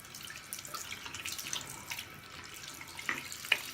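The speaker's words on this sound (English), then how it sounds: "So we're gonna rinse it off." Tap water runs over a Thuringian sharpening hone being rinsed, a moderate splashing flow with a few brief drips and clinks near the end, without speech.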